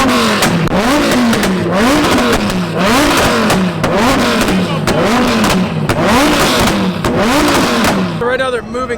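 Car engines revving hard at a two-step competition, a loud continuous roar whose pitch rises and falls in rapid repeated cycles, with a crowd and voices mixed underneath.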